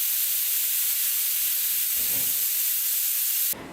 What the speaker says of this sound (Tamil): இப்போ குக்கர் விசில் போட்டுக்கலாம்.